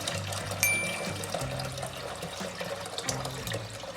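Homemade turnip juice (şalgam) being strained, giving a continuous close trickling and splashing of liquid with a few clinks, with no talking.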